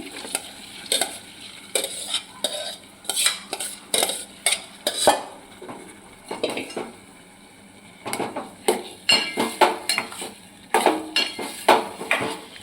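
Spoon scraping and clanking against a pot as split moong lentils are stirred into a tomato masala, irregular bursts of metallic clatter with short pauses, close and fairly loud, no voices.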